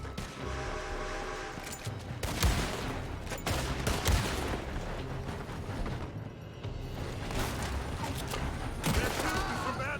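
Gunfire from a building in Red Dead Redemption 2, with sharp shots and bursts scattered through a dense, busy scene, layered with constant game noise.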